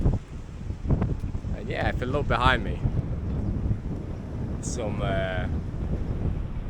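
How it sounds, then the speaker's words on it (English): Strong wind by the sea at a Kuwait marina buffets the microphone as a continuous low roar, with someone talking over it in several bursts. "it is quite windy"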